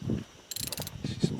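Ratchet tool clicking in short bursts while snugging up a leaking turbo fitting on a twin-turbo Chevrolet S10 drag truck, close and loud amid shop noise and low mechanical rumble.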